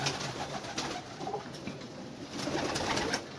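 Khatang pigeons coo softly in the background amid rustling, fluttering noise, faint and somewhat distant.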